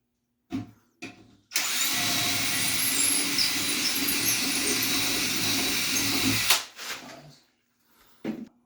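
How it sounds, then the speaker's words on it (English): A power drill whirs steadily for about five seconds, reaming a screw hole for a cabinet door pull, preceded and followed by short bursts and clicks of the tool. "I'm going to drop down with my drill"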